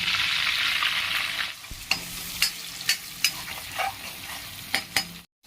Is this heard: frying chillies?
yes